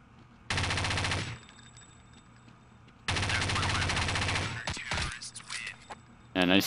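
Counter-Strike: Condition Zero gunfire comes as two long, loud bursts of rapid automatic fire, close and steady, with a short gap between them and a few scattered sharper sounds trailing at the end.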